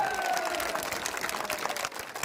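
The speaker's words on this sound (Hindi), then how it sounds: "सब लोग लपट के ताली, जोरदार ताली बजा के अपना स्वागत करा।" Loud, dense clapping from a large crowd at a Hindi-speaking political rally fills the whole stretch, steady and close, with faint voices mixed in.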